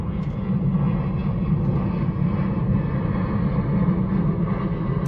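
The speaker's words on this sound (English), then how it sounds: "It's a plane." An airplane flies overhead, a steady, fairly loud engine drone that holds at a constant level for several seconds with no voices.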